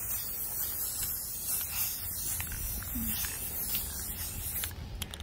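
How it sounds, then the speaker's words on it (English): A spray paint can hisses in short bursts as paint is sprayed around the edge of a piece of fall decor, a thin close hiss at low level with no talking. "I'm just going to give a good spray around this edge"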